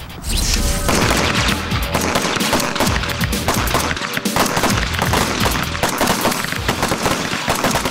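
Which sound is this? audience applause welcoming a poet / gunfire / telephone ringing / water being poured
gunfire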